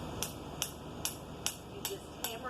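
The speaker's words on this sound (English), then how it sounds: "hammer it down" Rebar stake driven into the ground with a hammer: six evenly spaced, sharp metallic strikes about every 0.4 seconds, close and moderately loud over a quiet background.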